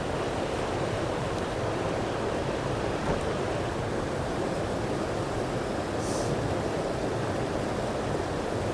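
A hiking creek flowing steadily nearby, a constant broadband rush of water with no pauses and no talking.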